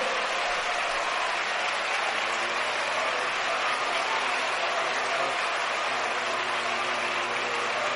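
A church congregation at a youth convention meeting in Dhariwal claps loudly and continuously in a dense, sustained wash, with faint voices under it.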